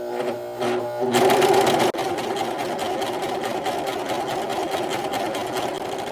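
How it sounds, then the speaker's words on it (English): A serger sewing machine stitching and trimming fabric with its cutting blade, driven by a foot pedal: a short hesitant start, then a steady, loud rapid mechanical whir running close and unbroken with no speech. "Now I'm going to gently press the foot pedal."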